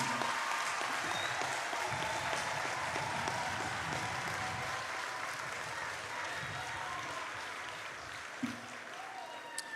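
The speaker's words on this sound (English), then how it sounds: "I invite our audience to give you a rousing round of applause on this, your graduation day" Steady, broad applause from a graduation ceremony audience honouring the graduates, sustained for nearly ten seconds and fading slightly toward the end, with faint voices mixed in.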